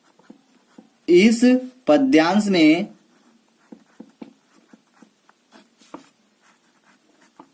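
Pen strokes scratch an answer onto paper, faint ticking marks coming in short bursts after a loud stretch of someone talking in Hindi.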